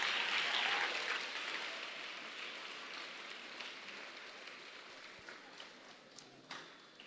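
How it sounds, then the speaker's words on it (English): A crowd at a teen self-belief conference claps loudly at first, then the applause thins out and fades to scattered, faint claps. "Please give yourselves a big round of applause."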